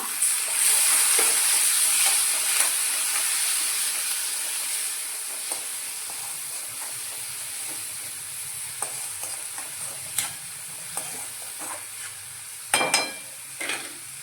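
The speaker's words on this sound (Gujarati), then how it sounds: "અને આપણે જે કોબી ખમણી હતી તે ઉમેરી દઈશું અને ટમેટા ઉમેરી દઈશું।" Grated cabbage and tomato with grated fresh turmeric stir-frying in a pan for a Rajasthani green turmeric dish, giving a steady close sizzle and hiss with scattered utensil scrapes and clinks, louder near the end.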